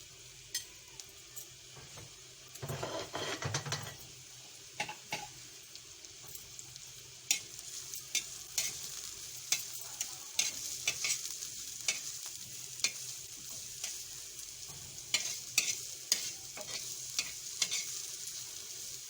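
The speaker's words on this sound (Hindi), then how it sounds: "ये एक तवे पे मैंने थोड़ा सा घी डाला है। मैं प्याज डाल रही हूँ पहले।" Onions frying in a little ghee on a flat tawa, a steady soft sizzle with stirring scrapes and clicks throughout, with a louder burst of sizzling early on as they go in; no talking.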